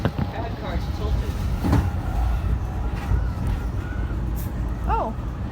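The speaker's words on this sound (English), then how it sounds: "Hey dude, we're racing a freight train." A BNSF freight train rolling past in Chicago, a steady low rumble of rail cars heard from a moving vehicle alongside, with a few faint squeaks and brief bird-like chirps.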